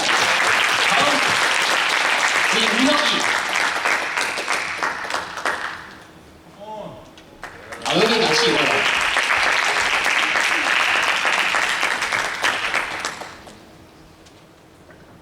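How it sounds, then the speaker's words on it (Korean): Loud applause fills a church youth service, fading to quieter talk in the middle before a second burst of clapping. People speak and laugh between and under the claps. "큰 박수 부탁드릴게요."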